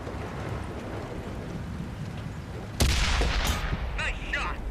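An Object 140 tank cannon fires in World of Tanks on Xbox One: a single sudden, loud, close blast over a rumbling engine bed, followed by a rattling, crackling decay.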